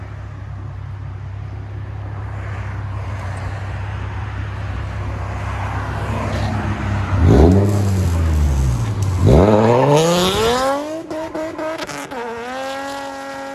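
A Nissan 350Z with a loud aftermarket exhaust idles with a deep rumble, then is revved hard in two big rising-and-falling sweeps before settling into a high steady drone; it is very loud and close.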